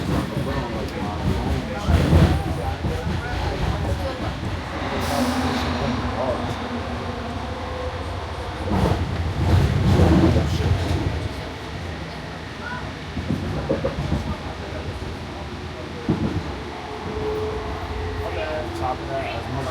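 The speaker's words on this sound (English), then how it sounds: "This is the Howard Beach train, stopping at all airline terminals." The Howard Beach airport train at JFK runs with a steady low rumble and rolling hum inside the car, while a recorded announcement and other voices speak over it.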